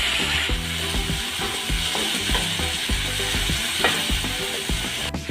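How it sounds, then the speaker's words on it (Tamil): Tomatoes saute in a pan over a high flame, a steady crackling sizzle broken by repeated scraping, clattering strokes of a spatula stirring them, close and busy throughout with no voices. "தக்காளி போட்டு ஹை ஃப்ளேம்லேயே 1 நிமிஷம் வரைக்கும் வதக்கியிருக்கேன்"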